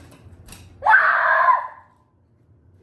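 A person yells into a tom drum with no bottom head, giving one sharp, loud, resonant shout of about a second after brief quiet, then silence.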